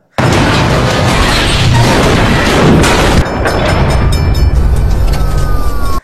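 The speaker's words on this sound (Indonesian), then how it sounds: "palang jembatan yang sudah disiapkan oleh polisi membuat mobil yang dikendarai oleh broker terguling hebat" A car in a film scene strikes a bridge barrier and rolls over violently, a loud sustained crash and roar of crumpling metal, then a shift to grinding and scraping as it settles.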